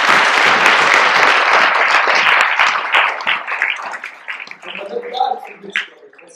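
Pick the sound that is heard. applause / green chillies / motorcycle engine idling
applause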